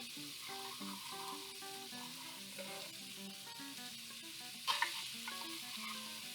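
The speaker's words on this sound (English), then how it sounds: "So I'm going to add this in with my onions now." Tomato paste and onions frying in a pan: a steady, faint sizzle with stirring, a brief louder scrape partway through, and quiet background music.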